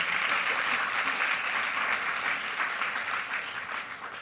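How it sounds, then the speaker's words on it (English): Audience applause from a seated crowd at a corporate event, a steady dense patter of clapping that gradually fades toward the end. "Round of applause for all three of you, all four of you."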